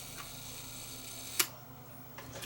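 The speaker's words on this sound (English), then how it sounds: "if I dial this back to, say, 1 second down there and prime it, you'll see the shutter open for 1 second." A mechanical film camera's shutter fires once with a single sharp click, close and distinct against a quiet background, followed by faint small mechanical ticks.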